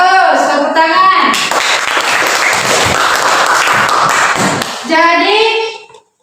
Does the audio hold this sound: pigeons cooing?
no